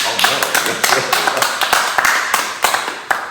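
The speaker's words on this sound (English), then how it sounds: "I enjoyed the clap." Applause from a studio audience at a talk show fills the scene, dense steady clapping with a few sharper claps standing out, loud and close throughout.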